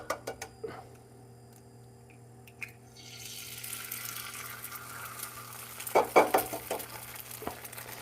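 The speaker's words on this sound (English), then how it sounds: "a little bit of olive oil. Let's get 2 eggs." Two eggs dropped into olive oil in a pan begin frying, a soft steady sizzle rising after a few quiet clicks and knocks, with brief louder crackling bursts and utensil taps near the end.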